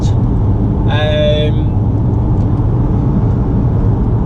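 A car cruising on a motorway, heard from inside the cabin: a steady, loud low road-and-engine rumble runs throughout, with a brief tonal chime-like sound near the start.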